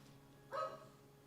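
A single short bark from Rocky, a pet dog, faint and somewhat distant in a quiet indoor room.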